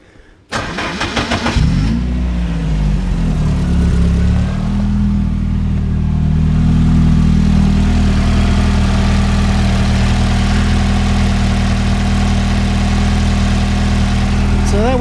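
A car engine cranks briefly, catches and settles into a loud, steady idle close by, running evenly for several seconds after starting.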